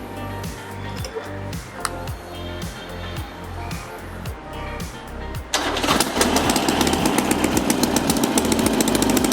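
A Harley-Davidson motorcycle with a leaking exhaust runs close by with a rough, lumpy idle that putters unevenly, then revs up around halfway into a louder, harsher and faster rasping drone.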